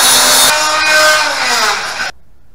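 Stainless steel pieces being cut before TIG welding, a loud, steady, high-pitched grinding whine close by that slowly drops in pitch, then cuts off abruptly near the end.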